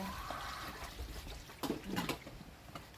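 Water runs steadily while dishes are washed, a continuous hiss with a few brief splashes or clinks partway through and no talking.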